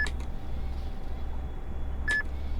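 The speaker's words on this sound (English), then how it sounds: "this different beep sound, it's because it changes the assortment" Two short electronic beeps from a wood harvester in a logging video game, signalling a change of log length, one at the start and another near the end, over a steady low machine hum.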